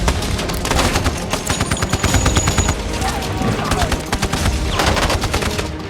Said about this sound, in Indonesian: Namun salah satu dari mereka ditembak oleh pemberontak.